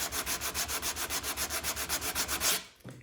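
A sanding block rubbed back and forth over laser-cut wood to remove scorch marks, about fifteen even rhythmic strokes, close and steady, then a short stop and a faint knock at the end.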